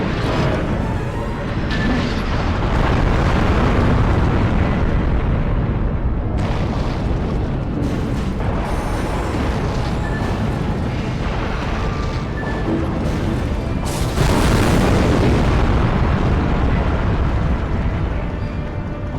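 A huge beam weapon blast in Robot Alchemic Drive, roaring as a loud, sustained explosive rumble across the whole stretch, with surges of crackling bursts near the middle and again toward the end.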